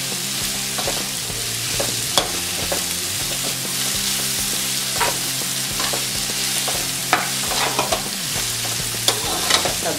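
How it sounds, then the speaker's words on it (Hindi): Mixed vegetables stir-fry in a hot pan for Schezwan noodles. A constant loud sizzle runs throughout, broken by frequent scraping and clattering strokes of a spatula. "सब्जियाँ 2-3 मिनट फ्राई हो चुकी है"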